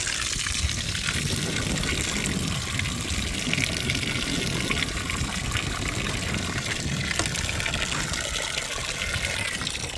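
Water gushing steadily into a cow's water trough on a subzero homestead, a continuous loud close splashing rush with no pauses.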